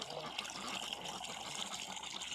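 Steady running water splashes and gushes as it is poured out for ducks and geese, a continuous broadband wash with no voices.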